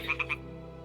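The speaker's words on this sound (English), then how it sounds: "Ah, the toads are croaking here." Toads croaking in a video game, three quick bright croaks in a row, close and clear, then the ambient game backdrop continues alone.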